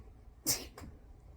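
A single sharp sneeze bursts out close by, brief and loud, followed by a fainter catch of breath in an otherwise quiet room.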